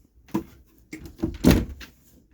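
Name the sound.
RV bedroom closet doors opening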